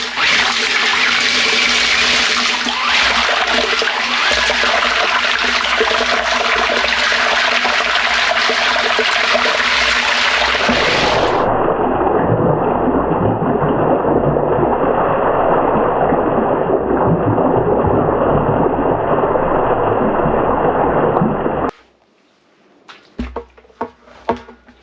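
A 26-gallon batch of JADAM wetting agent being mixed gives a steady, loud watery churning and sloshing that runs continuously for about twenty-two seconds, then cuts off to near silence with a few faint clicks.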